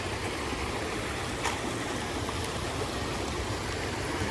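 Water rushes steadily at a stream crossing on a coastal hiking trail, forming a broad, continuous hiss at moderate level with no voices.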